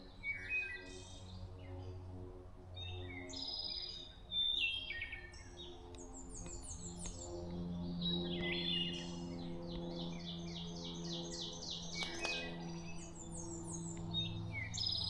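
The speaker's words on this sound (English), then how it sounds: "you can hear my favorite bird singing out, the hermit thrush" A hermit thrush sings in Connecticut woods along the Appalachian Trail, fluting, rising phrases repeated at intervals over a faint, steady background hum, with other chirps scattered around.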